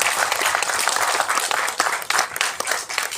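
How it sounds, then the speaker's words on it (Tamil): An audience at a Tamil film event claps in a loud, dense burst of applause that holds steady for a few seconds. "அவங்கள ஒரு தடவை பலமாக கைதட்டி பாராட்டி வாழ்க்கை."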